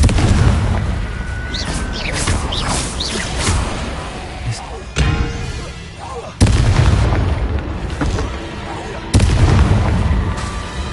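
Confringo fire spells in Hogwarts Legacy go off as heavy explosive booms. Several loud bursts land a few seconds apart, with crackling and rumbling between them.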